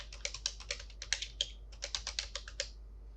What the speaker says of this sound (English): here you need to type in your Facebook profile name